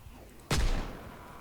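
A single loud shot from a .38 Special revolver in a video game, a sharp crack with a short booming tail fading over a second, alone.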